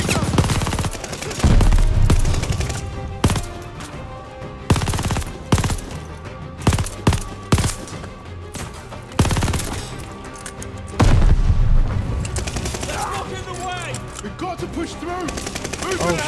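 Call of Duty Vanguard campaign combat: loud, dense gunfire with rapid automatic bursts and single shots, plus heavier booms, continuing almost nonstop throughout.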